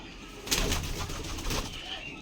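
Rajshahi Giribaz pigeons coo softly in a low, rounded burble, a few soft calls rising over a faint background murmur, fairly close, with no clear speech.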